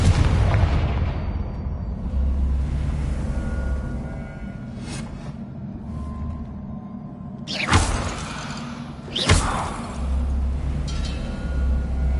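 A Confringo blasting spell goes off in Hogwarts Legacy with a few sharp, loud bursts over a rumbling low background, separated by quieter stretches.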